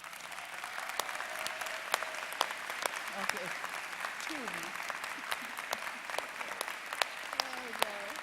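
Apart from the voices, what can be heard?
audience applause at commencement ceremony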